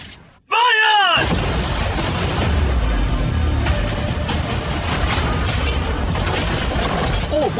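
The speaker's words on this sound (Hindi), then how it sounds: "अब हम तुम्हारी नई यॉट पर कैनन्स को शूट करने वाले हैं।" Cannons firing at a new yacht, with a sharp whistling launch and then a loud, sustained rumbling roar of blasts and crashing impact debris.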